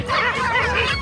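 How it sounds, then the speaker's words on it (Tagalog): Several dogs snarl, yip and bark at close range in a scuffle on Liwliwa Beach in Zambales, with high, wavering yelps and whimpers filling the moment. "Dami aso, oh. Wala, nag-away-away na sila."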